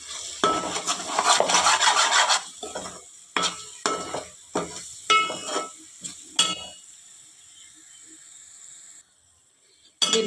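Fish curry masala with chili powder and salt sizzles in a pan, opening with a loud frying hiss, then a series of sharp spoon scrapes and clinks against the pan before the sound fades to quiet.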